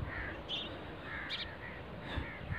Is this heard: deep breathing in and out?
no